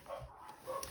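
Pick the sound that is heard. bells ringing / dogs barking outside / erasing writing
dogs barking outside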